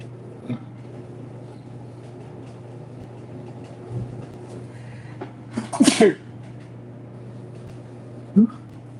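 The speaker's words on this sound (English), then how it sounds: "I want to sneeze, but I can't." A single sharp sneeze bursts out near the middle after a quiet stretch with a low steady hum, followed later by a brief small vocal sound.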